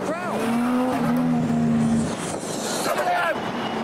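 Toyota Crown cars rolling into a huge JDM car show, with engines revving, tyres chirping and crowd noise mixed in, loud and close.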